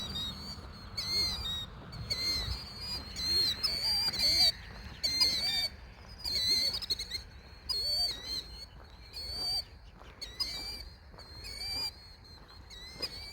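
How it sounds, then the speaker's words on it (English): Shrill, repeated killdeer calls ring out in bursts, about four birds crying insistently overhead against a quiet farm background. "There are about 4 of these killdeer just flying around me, squawking at me like that."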